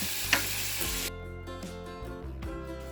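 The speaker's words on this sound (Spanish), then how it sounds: "Ahora le agregamos el tomate" Tomato dropped into a hot pan for cocido madrileño, a bright sizzle that drops off abruptly, then a few stirring scrapes and soft pops against the pan.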